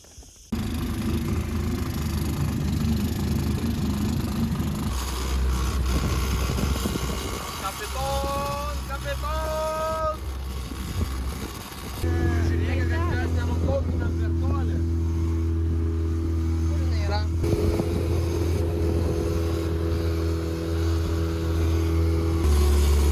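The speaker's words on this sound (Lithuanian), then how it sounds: "varom plaukti su valtim per jūrą" A motorboat engine drones steadily throughout at sea, with a low mechanical hum and shifting pitch, while people talk over it.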